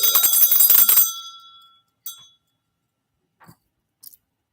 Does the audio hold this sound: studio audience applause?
no